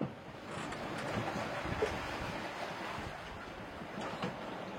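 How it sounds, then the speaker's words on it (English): Sea waves wash steadily with wind as a continuous broadband roar, fairly loud and even throughout with no voices. "the waves haven't really died down, but the wind has died down a little bit"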